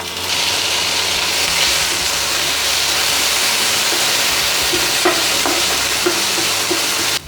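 Onions and tomatoes for black chana sundal sauté in a hot pan, a steady loud sizzle and hiss broken by occasional stirring scrapes and clicks near the end.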